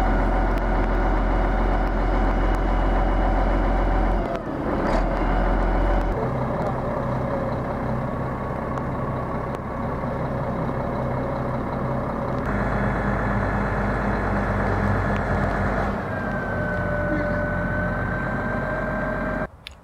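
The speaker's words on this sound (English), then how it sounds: "We'll be using a boom truck for that." A boom truck used for a 3,800-pound tower lift idles and runs steadily, its diesel drone continuous and close at an outdoor work site, with a faint reversing beep and small shifts in engine load.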